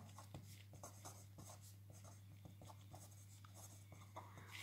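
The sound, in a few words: pen writing a name on paper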